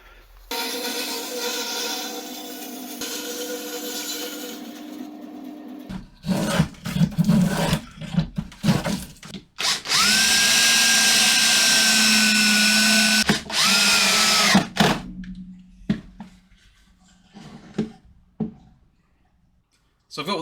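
A bandsaw in a shed cuts pallet wood for a sculpture, giving a steady loud whine with a strong tone that rises and settles during the cut, broken by shorter bursts and pauses, with some talking heard at the start.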